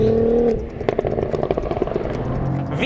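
A 2022 Cadillac CT4-V Blackwing's twin-turbo 3.6-litre GM V6 drones briefly, then breaks into a rapid series of sharp crackles and pops, fairly close and loud.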